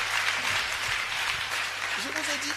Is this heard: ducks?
no